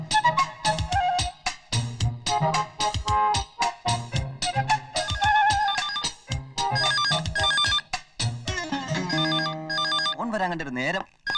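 A telephone rings in a Malayalam comedy scene, a melodic ringtone playing repeated tonal bursts that fill the whole stretch, loud and close, with other sound mixed underneath.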